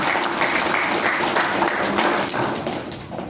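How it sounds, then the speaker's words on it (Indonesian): An audience applauds loudly and continuously at the closing ceremony of a village-based Islamic scholar cadre training program run by the Riau provincial government, a dense, even clatter of many hands that fades slightly toward the end. "Tepuk tangan dulu untuk Basnas."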